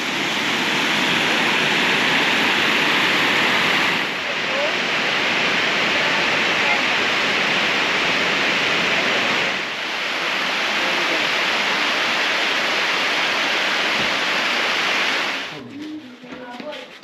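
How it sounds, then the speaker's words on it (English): Blakeney Falls at Crater Lake pours in a steady, broadband roar of rushing water heard nearby, briefly dipping twice before a rustling handling noise at the end. "At Blakeney Falls again."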